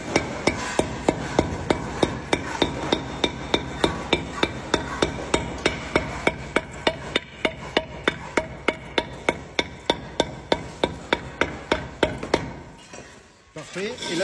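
Steady hammer blows strike a hollow-cored concrete block to cut it, in an even rhythm, about three per second, close and sharp, ending with a brief scrape.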